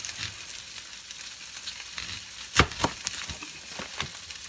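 Red onion frying with cabbage in a pan gives a steady, close sizzle, broken by a few sharp crackles and pops near the end, with no voices over it.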